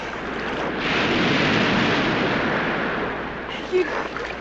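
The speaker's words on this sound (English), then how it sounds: "You'd never make it. Not through those waves." Ocean surf breaks and rushes in a continuous roar, swelling loudly through the middle and then easing off. Wind buffets the microphone throughout.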